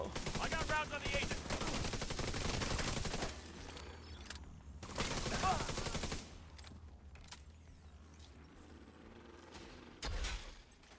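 Heavy gunfire in The Division 2, dense bursts of automatic fire that swell and fade across the scene, loud in the opening seconds and again midway, with a final short burst near the end.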